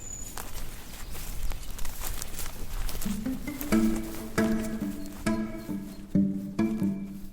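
Footsteps crunch along a trail in a steady walking rhythm, close by, while a few tonal tones ring out in the later part of the stretch.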